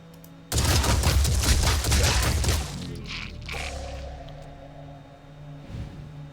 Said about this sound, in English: Let's take a look at our minigun first.